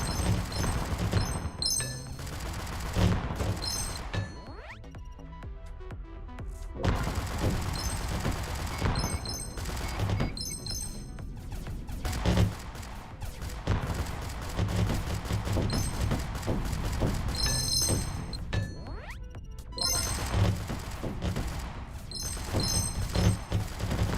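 Rapid, dense bursts of spaceship weapon fire in the space shooter EON Fighter, loud and sustained with brief lulls and metallic pings, no talking.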